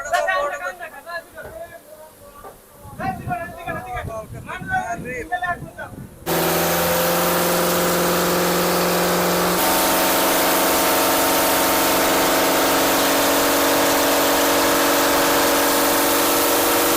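A deep-sea fishing trawler's engine in the Sundarbans, heard first faintly under talk and then, after about six seconds, as a loud, steady, droning hum that fills the rest of the stretch.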